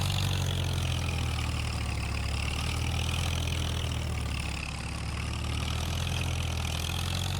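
A tractor engine idles steadily in the Farming Simulator 25 farming game, a continuous low rumble with a constant, even tone and no talking over it.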